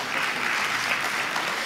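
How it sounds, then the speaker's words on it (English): Dense applause from a seminar audience greeting a trading psychology speaker, a steady close wash of many hands clapping at once for the whole short stretch. "Let's give him a huge round of applause."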